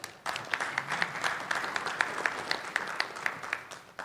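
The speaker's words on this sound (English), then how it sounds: "So I'm going to ask you to give all three of them a round of applause." An audience at an education forum claps for three presenters, a fairly quiet, even patter of many hands that starts abruptly and continues steadily without voices.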